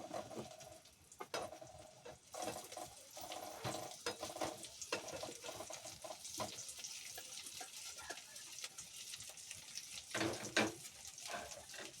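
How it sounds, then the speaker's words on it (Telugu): Homemade paneer cubes frying in a butter masala gravy in a pan, a steady sizzle with stirring and scraping throughout, plus brief splashes of running tap water, with no talk. "పన్నీర్ని అయితే అందులో వేసుకొని ఫ్రై చేసుకుందాం"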